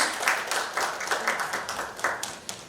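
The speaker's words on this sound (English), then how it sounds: "Round of applause, please." A crowd applauds at a Construction Federation of India event as an executive is introduced: moderate, fairly even clapping from many hands, slightly distant and sustained through the moment.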